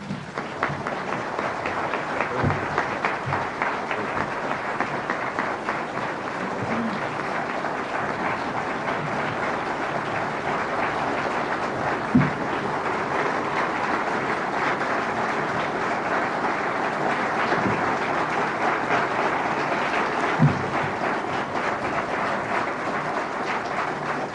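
An audience breaks into sustained applause, dense steady clapping from a large crowd that holds at an even level throughout with no speech over it.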